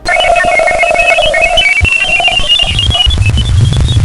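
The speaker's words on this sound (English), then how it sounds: "Then comes some stranger computer beeping like sounds" Strange electronic beeps and chirps from a spacecraft recording of magnetosphere radio emissions jump between pitches over crackling static, with a low rumbling swell near the end; eerie and continuous, no voices.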